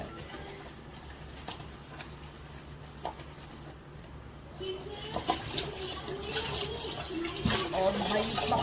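Dishes are washed by hand under hot running water at a home sink: a continuous splash and rush with scrubbing, rubbing and light clinks, growing louder and busier toward the end.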